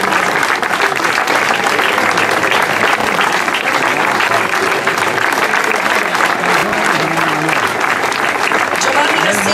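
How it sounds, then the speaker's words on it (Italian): Sustained, loud applause from a crowd at a trophy ceremony following the 40th Ponte Corace–Tiriolo hill climb in Tiriolo, steady dense clapping throughout with voices faintly mixed in. "Luigi Ferragina, al quale va un grande applauso"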